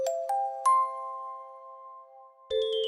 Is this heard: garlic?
no